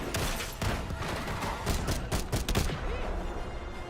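Dense bursts of video game gunfire, rapid overlapping shots and automatic fire rattling continuously, loud and close, with no talking.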